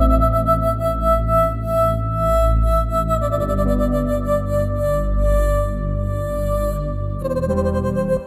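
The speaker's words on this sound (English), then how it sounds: "I used a different stutter effect to make it a little bit more interesting" A stutter house track build-up carries a loud, sustained synth and bass texture that is chopped into rapid rhythmic repeats, the stuttering pattern shifting its rate partway through, with no voices present.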